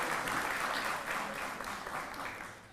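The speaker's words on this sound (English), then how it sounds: "another round of applause for the Landscape Architecture Affiliate Program Group" A volunteer awards ceremony audience claps in a steady, moderately loud wash of applause that slowly tapers toward the end.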